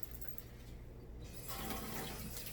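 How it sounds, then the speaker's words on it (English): Hot water runs steadily from a tap, a soft continuous rushing stream that grows slightly fuller partway through, with no voices. "So now what I'm going to do is I like to run hot water."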